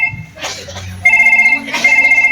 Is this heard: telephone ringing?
yes